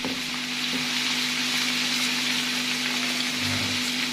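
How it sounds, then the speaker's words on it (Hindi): Garlic-ginger paste fries in oil with browned onions for chicken pulao, giving a continuous, fairly loud broadband sizzle with a faint steady hum underneath and no speech. "ये 1 टेबल स्पून लहसुन अदरक का पेस्ट ऐड करने लगे हैं। इसको भूनते हैं"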